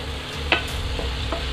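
Chicken pieces frying in a pan for chilli chicken as soy sauce is added; a soft continuous sizzle with a few brief stirring scrapes, close and moderately quiet, with no talking.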